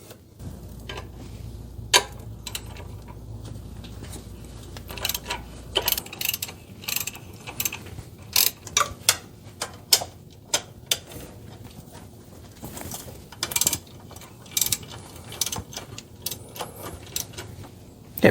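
Ratchet loosening bolts on a Chevy 350 power steering pump in a G-Body Cutlass, crisp rapid clicking bursts close by, coming in repeated short runs with small clanks between.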